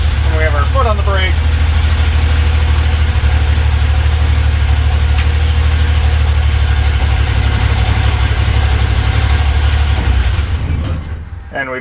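The V6 in a Land Rover Series Lightweight runs at a steady idle, a loud, even low rumble that holds throughout with faint mechanical chatter over it before easing slightly at the end.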